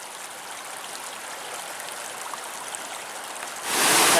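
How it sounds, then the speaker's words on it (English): Tahquamenon Falls in Michigan, a cascading waterfall, heard as a steady rushing wash of water that swells sharply louder near the end as the falls come closer. "It's a very beautiful cascading waterfall."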